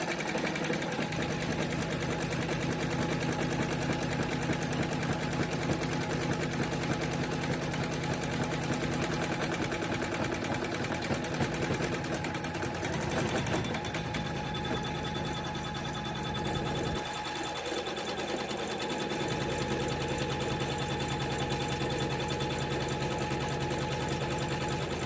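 Embroidery machine stitching the lining outline onto a quilted in-the-hoop zipper pouch, a close, continuous rapid mechanical whir and tapping of the needle running steadily throughout.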